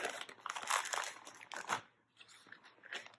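A plastic bag holding clay slip crinkles and crunches close up as it is sealed and the air is squeezed out, with loud irregular rustling bursts and a short lull in between.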